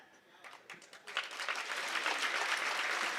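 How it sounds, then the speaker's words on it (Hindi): Audience applause at a political rally, a crowd clapping that starts scattered and quickly builds into dense, steady clapping, heard from a distance. "ताली यहाँ नहीं बजानी थी"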